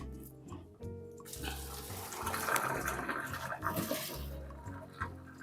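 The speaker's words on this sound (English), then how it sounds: "we're gonna go ahead and transfer it over to the sink over here" Boiled pasta and its cooking water are poured from a pot into a kitchen sink, a gushing, splashing rush that is loud in the middle and then trails off, with quiet bumps before and after.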